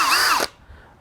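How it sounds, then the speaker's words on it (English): A power drill whines loudly and close as it bores a hole into a 2006 Subaru Forester headlight housing, then cuts off abruptly halfway through, leaving a quiet tail. "And you just gotta just drill into it like"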